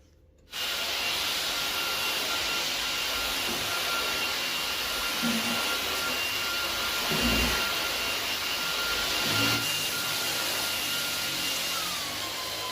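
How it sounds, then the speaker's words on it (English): A Roborock H7 stick vacuum cleaner drones steadily at close range, a loud continuous whir with faint scraping bumps as it is pushed over the floor. "let's go and vacuum up this area and we'll see how much the H7 picks up."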